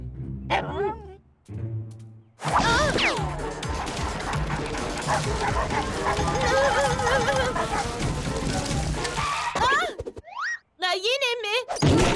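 Cartoon dogs bark and yip excitedly in a loud, busy stretch thick with music and effects, with character voices speaking before and after.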